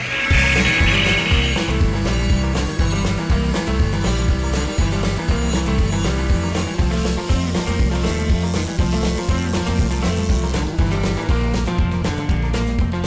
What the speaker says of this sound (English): got a little Dremel tool with a little burr bit here. Want to kind of grind it out a little bit.